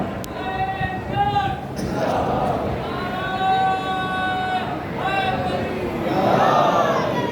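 A crowd at a Muharram majlis gathering chants slogans in unison, with loud repeated surges of voices over a steady background of crowd noise.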